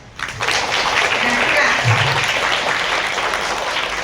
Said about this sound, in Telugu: మీరందరూ కలిసి సార్కి, మేడంకి క్లాప్స్.